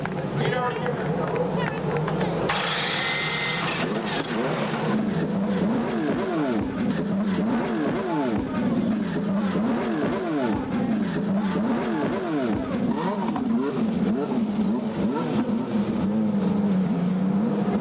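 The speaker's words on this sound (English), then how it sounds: "Gentlemen, start your engines." Indy cars at Mid-Ohio, a CART race on a hot day with 29 cars on the pit straight, fire up and rev together into a dense, continuous roar of engines, loud and sustained throughout.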